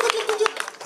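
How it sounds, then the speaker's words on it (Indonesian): Brief applause for gamelan musicians at a Balinese comedy and puppet performance: a quick burst of hand claps with a voice speaking over it. "Tepuk tangan penabuh"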